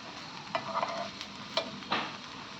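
Stuffed okra frying in a nonstick pan, with a soft steady sizzle broken by a few scraping stirs of a spatula, close and fairly quiet, and no one speaking.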